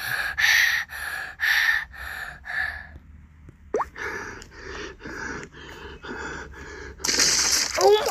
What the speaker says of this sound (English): Bro's breathing like